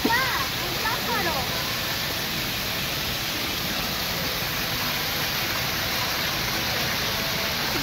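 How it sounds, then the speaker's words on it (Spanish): Water rushes steadily from a waterfall or stream in a continuous loud, close wash that covers the whole stretch, with a brief voice at the very start. "Y viene mucha agua desde allá."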